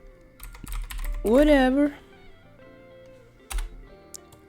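Keys clatter on a computer keyboard in short bursts of clicks during a hacking exercise, while a person speaks briefly over the tapping.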